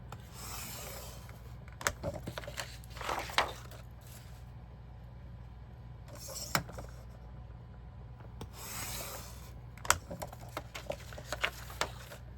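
Mats for a model of a theme park attraction cut by hand, with repeated scraping, rasping strokes coming in bursts and sharp ticks between them over a steady low hum, close and moderately quiet.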